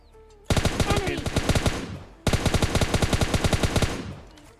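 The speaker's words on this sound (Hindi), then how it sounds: "काफ़ी शॉट लिए, लेकिन वो M4 की एमओ ख़त्म हो गई यार।" An M4 assault rifle fires in PUBG Mobile Lite as two long, loud bursts of rapid automatic shots, separated by a brief pause, with no talking.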